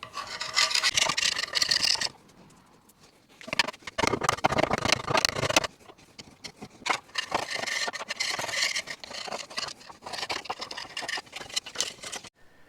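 Bondo filler is rasped and ground off a mini truck frame. The harsh scraping comes in long, loud, close bursts broken by brief quieter pauses, with no talking.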